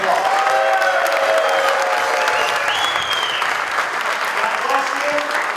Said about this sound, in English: let's give Alex and Danny and our Lord and Savior and all of you a big round of applause